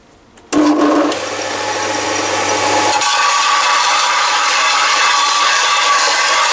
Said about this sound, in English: And now just clean this up on the belt sander.